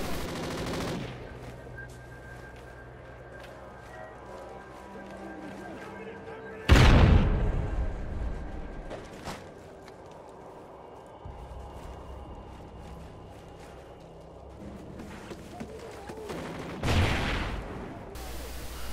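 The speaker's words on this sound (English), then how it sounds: "But it does feel like you get more recoil with the assault rifle." Assault rifle fire in Call of Duty Ghosts, on the Ripped Freight map, with two heavy booming bursts standing out over a steady game-audio bed and low rumble, the shots punchy and loud against the background.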